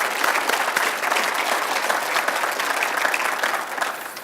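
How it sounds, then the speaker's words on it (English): Applause for award-winning city volunteers who support police and public safety services, a steady dense clapping from a crowd that holds evenly for about four seconds before easing slightly at the end. "I think that deserves a round of applause."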